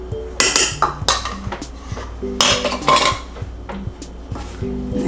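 Ube cheesecake batter with sour cream being stirred in a bowl, giving repeated clinks and scrapes of a utensil against the dish in uneven bursts, fairly close and moderately loud with no talking.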